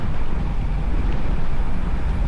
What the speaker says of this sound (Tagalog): sobrang lakas din ng hangin